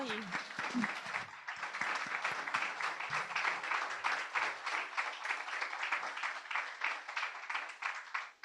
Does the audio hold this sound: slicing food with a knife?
no